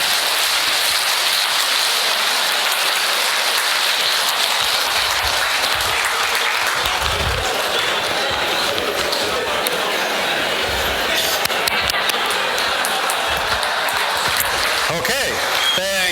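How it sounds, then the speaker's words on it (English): Clapping from a conference audience at an Angular talk, arms raised as a speaker leads them, a dense wash of many hands held steady for about sixteen seconds with occasional voices underneath. "And now clap."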